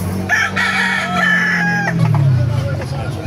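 A rooster at the Bocaue market crows loudly and close by, one long drawn-out call with a quavering tail, over market background noise.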